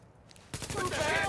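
Distant gunfire in The Division, a brief muffled patter of shots rising out of quiet ambience and continuing under noisy background sound.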